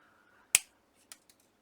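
Scissors cut craft material while Christmas bauble decorations are being made. One sharp, close snip stands out in a quiet room, followed by two fainter, shorter clicks.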